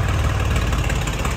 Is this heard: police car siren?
no